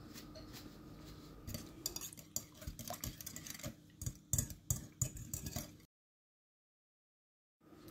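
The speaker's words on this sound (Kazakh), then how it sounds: "Енді жұмыртқаны жарып алып, үстіне қара бұрыш, тұз, паприка салып, жақсылап араластырып алдым." Fork or whisk clinking against a bowl while cracked eggs are beaten with black pepper, salt and paprika, quick irregular taps and scrapes close by, then silence.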